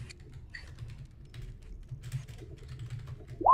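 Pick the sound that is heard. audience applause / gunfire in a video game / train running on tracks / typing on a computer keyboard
typing on a computer keyboard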